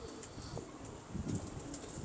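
Jungli and Najja pigeons cooing close by in soft low bursts, with a few quick wing flaps and light chirps over a faint background.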